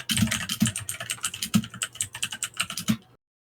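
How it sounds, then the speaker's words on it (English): Rapid keystrokes clack on a computer keyboard, a dense close run of typing with a few heavier strikes, ending abruptly in silence. "What are you typing, sir?"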